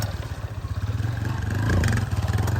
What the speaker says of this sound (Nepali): मामाको बाइक हो यिनको